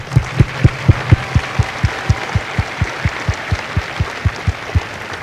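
A crowd at a Marine Corps recruit graduation at MCRD San Diego claps in steady unison, evenly spaced loud claps beating rhythmically for several seconds without cheering.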